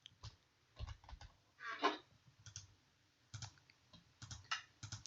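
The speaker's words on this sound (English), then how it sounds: "Keyboard." Quiet bursts of computer keyboard typing, clustered keystroke clicks with short pauses between, during assembly of a home computer, close and faint with no talk.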